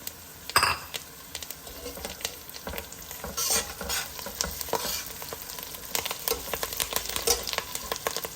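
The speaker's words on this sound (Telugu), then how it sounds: "ఉల్లిపాయలు చక్కగా వేగిపోతున్నాయి చూద్దాం రండి" Onions frying in oil in a pan for a millet upma, with a steady close sizzle and repeated scrapes and clinks of a spoon stirring against the pan throughout.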